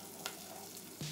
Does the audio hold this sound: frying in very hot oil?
yes